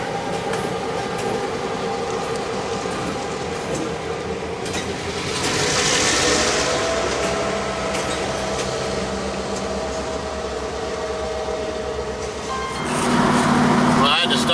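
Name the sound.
train passing by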